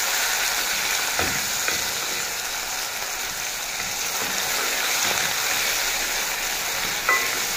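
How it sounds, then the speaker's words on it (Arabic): Garlic with green and red chili peppers frying in plenty of hot oil, a steady broadband sizzle and crackle with a few sharper pops, close and continuous throughout. "عشان كده الطشطشه اللي حصلت دي حصلت اهي"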